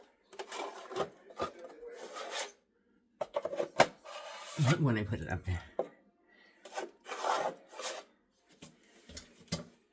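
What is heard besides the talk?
sanding drywall mud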